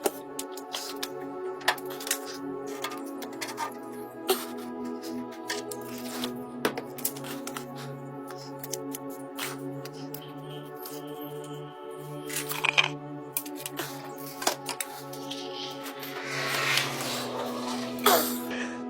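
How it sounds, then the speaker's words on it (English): A cold plunge tub scrubbed by hand with dish soap in the leftover water: irregular rubbing, squeaking and swishing strokes over a steady low hum, growing busier toward the end. "I'm going to hop in there with some dish soap and start scrubbing away."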